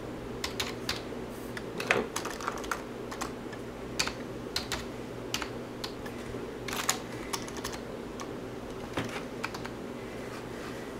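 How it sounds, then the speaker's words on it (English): Quick, light keystrokes on a computer keyboard tap in irregular bursts, faint and close against a steady low hum, with no one speaking. "In the search, I would just type in partition."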